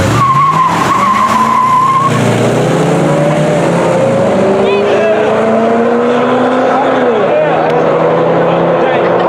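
Diesel trucks racing at a street event in Mexico, engines roaring with rising pitch sweeps and tire-skid noise, loud and close throughout, with a crowd talking over the din.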